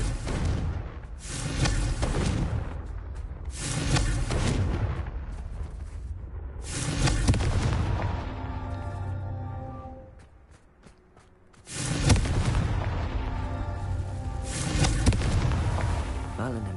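Confringo fire spell explosions in the video game Hogwarts Legacy, with repeated heavy booming blasts and rumbling bursts that roll on for long stretches, separated by a short quieter gap, with game music and effects around them.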